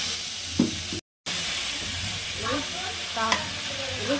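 Vegetables for a potato, flat bean and eggplant curry fry with a pinch of sugar, a continuous close sizzle broken by repeated scraping stirs and a brief dropout near the start, no voices.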